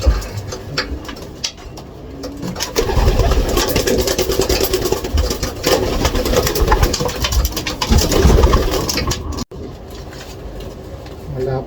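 Pigeons in an aviary, cooing and fluttering close by over a steady low engine-like rumble, with a short break near the end.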